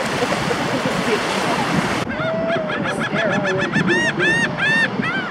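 Seagulls hover and call at a beach in Galveston, Texas, catching Cheetos thrown by a child. A rapid string of sharp, repeated squawks rises over steady surf noise.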